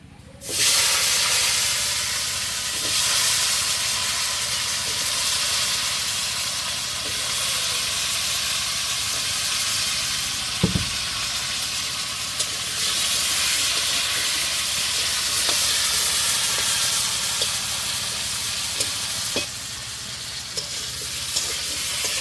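Fish and potatoes frying in hot oil in a village kitchen during rain, a loud continuous sizzle and hiss with occasional stirring knocks, steady and close.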